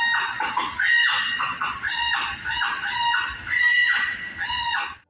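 A truck's failing power steering squeals and squawks like a distressed chicken as the wheel turns, a loud, near run of repeated harsh honking cries with no talk over it.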